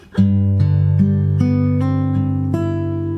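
A short fingerstyle guitar phrase from a song of plucked notes over a held bass, each new note ringing into the next at a steady, moderate pace.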